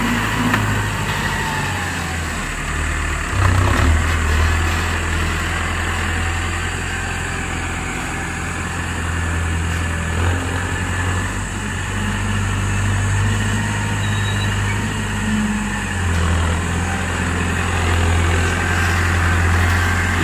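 Heavy diesel engines of Mahindra Arjun 605 four-wheel-drive tractors rumble steadily at idle, a deep low throb with occasional small surges in pitch.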